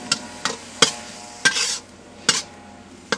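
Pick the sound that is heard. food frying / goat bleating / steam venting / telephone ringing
food frying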